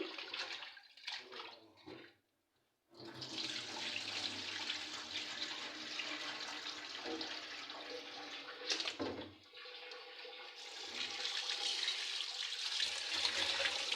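Rice being washed for pulao, with water running and splashing as the grains are rinsed in a pot; a steady broadband wash of water noise that continues for most of the stretch, broken by a brief pause near the start.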